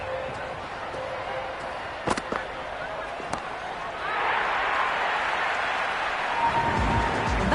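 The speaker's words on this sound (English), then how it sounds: "The crowd are loving every minute of this match." Crowd roar in a cricket stadium during an India versus South Africa T20 World Cup match in Cricket 26, a steady wash of cheering that swells louder midway, with a few sharp bangs and claps above it.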